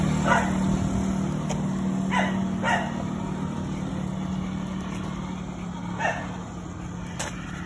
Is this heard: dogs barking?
yes